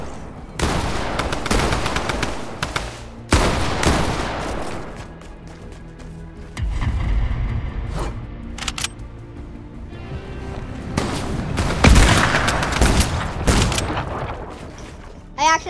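Gunfire from a Fortnite match comes in several loud bursts of rapid shots, separated by quieter stretches of in-game ambience.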